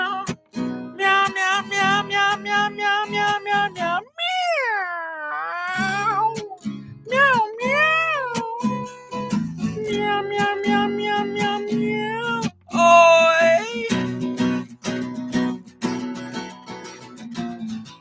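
A voice sings imitation cat meows in a song about two cats talking about love, a long run of rhythmic, pitched meows with swooping, drawn-out calls over a steady instrumental backing.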